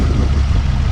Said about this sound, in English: Listen to that turbo diesel, everybody.